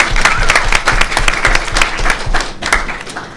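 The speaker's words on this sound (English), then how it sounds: "I think that deserves some applause." A short burst of lively audience applause at a VR storytelling panel, close and crisp, with dense overlapping claps that fade slightly toward the end.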